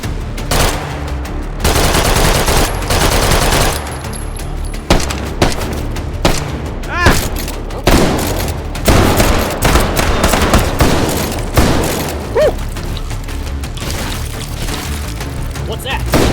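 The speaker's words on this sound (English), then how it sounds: "It was a shotgun is what it was." Shotgun fire in the VR shooter game H3VR: repeated loud booming blasts in fast bursts across the whole stretch, with a voice talking underneath.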